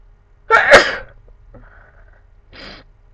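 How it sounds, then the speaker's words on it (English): One loud, close sneeze with a sharp burst, then a softer breathy sound and a faint sniff in an otherwise quiet room. "I'm gonna sneeze"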